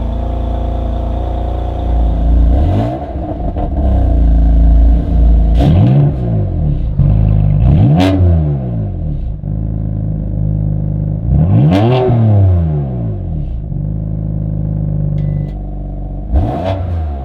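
A BMW M4's engine revs repeatedly in loud, close bursts, rising and falling in pitch over a steady idle rumble, with several sharp throttle blips spaced a few seconds apart and no talking.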